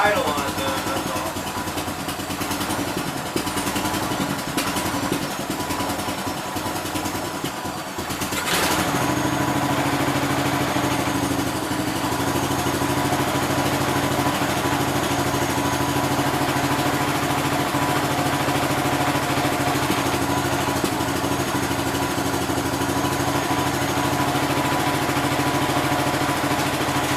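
A 1969 Gravely 430 garden tractor engine idles steadily and fairly loud up close, a rough mid-pitched drone that settles into an even running note after a brief change in tone early on.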